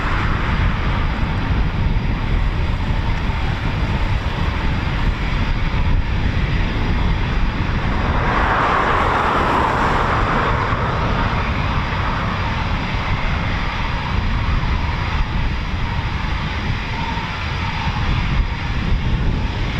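Twin jet engines of a Eurofighter Typhoon FGR4 on an RAF station ground run give a continuous loud, broad roar that swells and hisses midway before settling back to a steady rumble.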